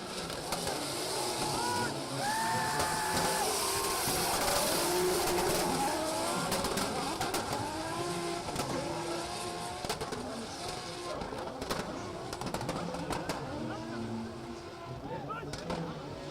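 Drift cars battling in a tandem drift competition at Oman International Drift, with loud continuous engine roar and screeching tire squeals, and a commentator talking over the action.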